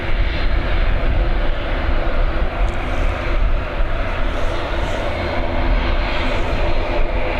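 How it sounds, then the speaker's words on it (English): An Aer Lingus Airbus A320neo jet from London Heathrow comes in to land on runway 28L at Dublin Airport, a loud, sustained engine roar with a deep rumble, steady and near throughout, with no speech. "Here we go, EI175, this Airbus A320neo operated by Aer Lingus, coming in from London Heathrow"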